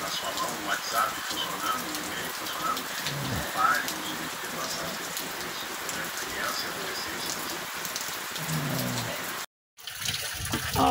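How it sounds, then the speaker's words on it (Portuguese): Steady rain pours down during heavy rains and flooding in northeastern Brazil, a dense hiss of drops striking surfaces with trickling water, continuous and close, briefly cut to silence near the end. "aqui tá é chuva mesmo"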